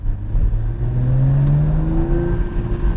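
A Mercedes E53 AMG engine, stock, revs steadily and loud from inside the car in city driving, a rising whine and throaty drone holding for the whole stretch without talk.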